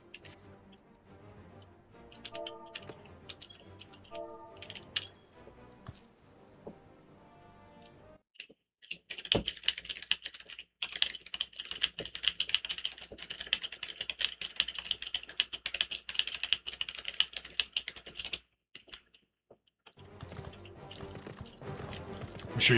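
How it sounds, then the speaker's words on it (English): Rapid clicky typing on a mechanical computer keyboard, loud and close, in bursts with a few brief pauses and no talking. "I'm sure you guys enjoyed hearing the mechanical keys."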